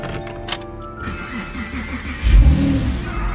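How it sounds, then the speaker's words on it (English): A 2006 Porsche 911 Carrera S (997) convertible with its flat-six engine cranking and catching, then a loud rising rev near the end, close by and with no talk over it. "there is the flat six firing to life"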